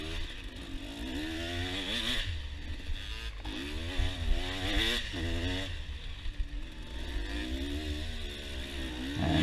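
An enduro motorcycle rides through sand ruts on a cross-country enduro course, its engine buzzing and revving steadily throughout, rising and falling with throttle changes, loud and close with no talk.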